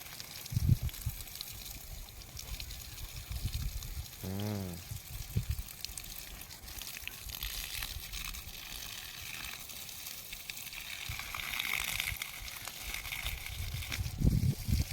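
Water is poured onto garden plants, giving a soft, continuous splashing and trickling that runs throughout at moderate volume, with occasional brief voices and knocks.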